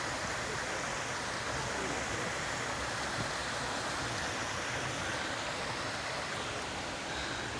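A clean river flows through Bukhansan National Park in Seoul, South Korea, giving a steady, unbroken rush of water that stays at an even level throughout.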